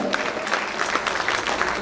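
Audience clapping at a cultural programme inauguration, a brisk round of applause with distinct claps standing out in the crowd, steady and fairly close for under two seconds.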